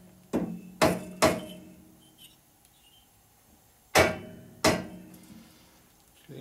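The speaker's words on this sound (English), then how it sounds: "Fine tuning with a hammer." A hammer knocks on the head of a 1965 Harley-Davidson Panhead 74ci FLH engine during a rebuild, three solid close taps, a pause, then two more, each with a brief ring.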